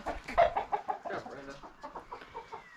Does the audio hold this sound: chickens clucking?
yes